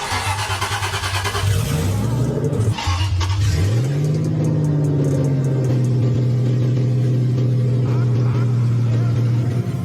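A restored Aston Martin engine cranks, catches and revs up, then holds a steady, fairly loud idle close by, with faint voices in the background.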